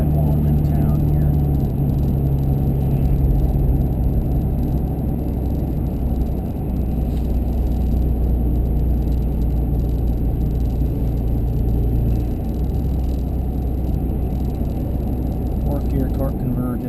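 A Cummins diesel pickup truck launches heavily and accelerates, a dense, steady low drone of engine and road noise filling the whole stretch, with people talking inside over it.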